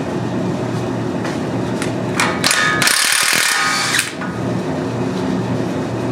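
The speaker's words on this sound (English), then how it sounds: "I'm just going to use my impact" An impact wrench breaks loose a tie rod nut on a Hummer H3, a loud rattling hammering burst lasting just over a second that rises above steady workshop background noise, with a few short clicks before it.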